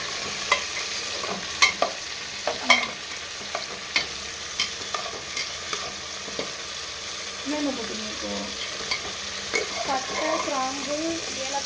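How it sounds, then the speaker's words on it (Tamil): Onions sautéing in a pan: a continuous sizzle broken by sharp, irregular clicks and scrapes of a spoon stirring against the metal, close and fairly loud, with brief quiet speech near the end. "வெங்காயம் நல்லா வதங்கி பார்த்தீங்கன்னா கொஞ்சம் அப்புறமா தக்காளி போட்டுக்கணும் லைட்டாக வதக்கிடுங்க"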